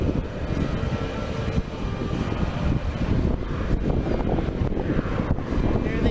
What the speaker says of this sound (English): Hopefully you guys can hear the roar of the engines.